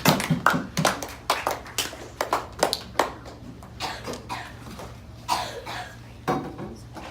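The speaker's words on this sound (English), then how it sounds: "Let's give a big round of applause to Mr. Patrick Bauer." A school audience claps for a student speaker who has just delivered a public-speaking talk, with scattered, uneven hand claps and taps that thin out over several seconds rather than building into full applause.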